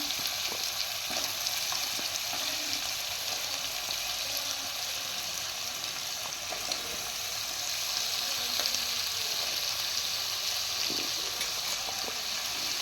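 Prawns and pieces of ash gourd fry in a pan for a Bengali curry, giving a dense, even, close sizzle that holds steady without pause or talk.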